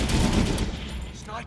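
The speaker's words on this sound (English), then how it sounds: "Sniper fire" Sniper scouts in the Dawn of War 3 strategy game firing a rapid cluster of sharp gunshots that fades out over a second, fairly loud, with a voice briefly underneath.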